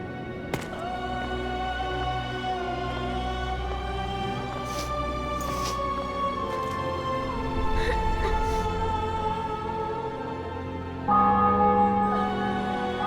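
Church bells toll in celebration after victory in The Witcher 2: Assassins of Kings, several bells ringing in layered, sustained peals with faint clip-clop sounds in the background throughout.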